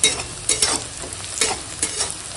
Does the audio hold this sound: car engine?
no